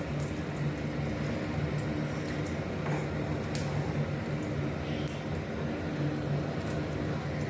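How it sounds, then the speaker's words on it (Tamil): Mustard seeds spluttering in hot oil in a wok-style frying pan, a steady dense crackle and sizzle running unbroken at moderate level with no voices. "கடுகு பொரியட்டும் எண்ணெய் ஊற்றிருக்கு வடைச்சட்டியில் கடுகு போட்டுக்கலாம்"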